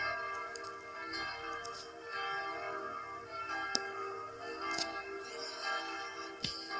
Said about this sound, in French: les cloches pour le carême et la cloche 1, la cloche 2 et la cloche numéro 3